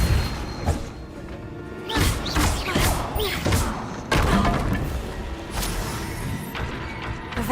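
Magic spell impacts from Hogwarts Legacy, a Repulsor blast among them: a run of heavy booming thuds and crashes, several loud hits close together over a constant game soundscape.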